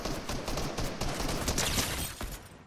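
Rapid automatic AK rifle fire in Fortnite OG Season 6, a dense, loud stream of close shots rattling continuously for a few seconds before trailing off.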